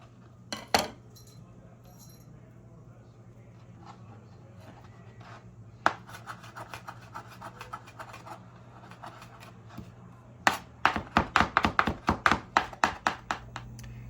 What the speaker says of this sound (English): Now my dad's gonna bust open the garlic and chop it